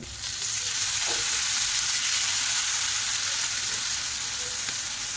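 Mutton tripe pieces fry with mutton masala and fresh coriander, a steady loud hissing sizzle that fades in at the start and holds evenly, with faint stirring knocks.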